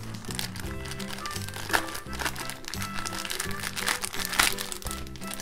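Plastic packet holding Chinese socks with a 3D print being carefully opened by hand, giving steady crinkling and crackling throughout, close up, over background music.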